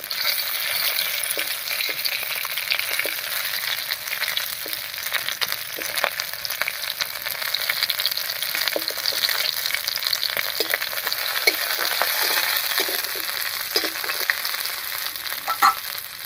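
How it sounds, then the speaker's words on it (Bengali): Garlic cloves and green chillies fry in mustard oil, a steady dense sizzle with crackling pops and spits running throughout, close and fairly loud, no voices. "তেলের মধ্যে দেব কয়েক কোয়া রসুন আর দেব কয়েকটা কাঁচা লঙ্কা"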